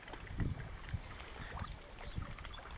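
Wind rushing steadily outdoors with low gusty rumbles buffeting the microphone, no voices, on a solo carp fishing trip.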